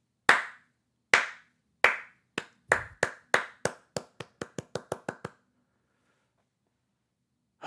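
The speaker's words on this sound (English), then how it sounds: "You hear the sound of clapping." About fifteen sharp hand claps, alone and close, begin slowly and spaced apart, then speed up into a quick run before stopping and leaving silence.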